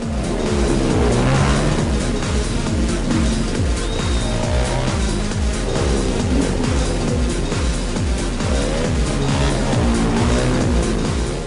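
Rally race cars and motorcycles run laps at an autocross track, a loud, unbroken roar of engines revving and overlapping close by, with no letup throughout.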